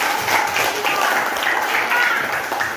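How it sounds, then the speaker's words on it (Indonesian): Steady applause from a class of schoolchildren in a classroom, dense and continuous clapping throughout, fairly loud and close. "Oke, tepuk tangan."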